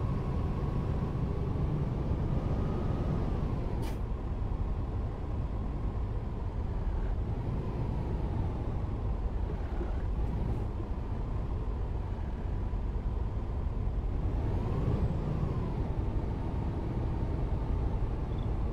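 A steady, droning engine rumble from a Comil Campione HD 6x2 Volvo bus in Euro Truck Simulator 2 runs continuously with slight shifts in pitch, cruising at a constant speed.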